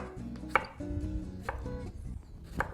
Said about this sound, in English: now I can take this whole piece of mango and slice it up